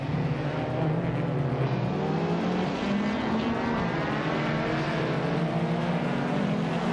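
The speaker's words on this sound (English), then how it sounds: "Dale Earnhardt is currently in sixth place, driving a 2021 Ford Mustang" 2021 Ford Mustang race car engine in a racing video game, a steady droning engine note with shifting pitch as it holds speed, continuous and fairly close throughout.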